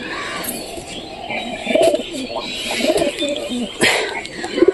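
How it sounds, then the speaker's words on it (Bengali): Domestic pigeons brooding on eggs in a sunny coop give soft repeated coos with a few chirps, over rustling and general background noise. "এই দেখো পায়রি পায়রি বসে আছে ডিমে"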